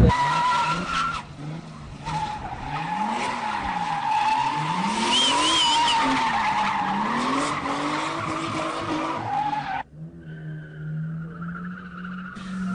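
A rally race car drives hard at a Syrian club event, its engine rising and falling through gear changes while tires skid and squeal loudly, before the sound abruptly shifts to a quieter, steadier engine drone.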